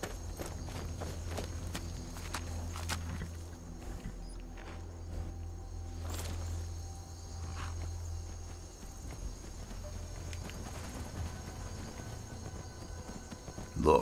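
Steady rhythmic horse hoofbeats in modded Skyrim, a faint clip-clop plodding along continuously over a low background hum.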